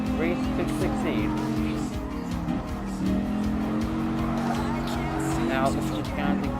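Dodge Viper SRT10 coupe racing in Gran Turismo Sport, engine revving up and down through gear changes with tire squeal, close and steady, a voice talking over it.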